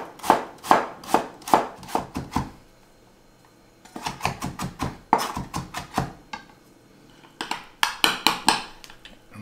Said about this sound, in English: then we're going to chop in some onion, very finely minced, and some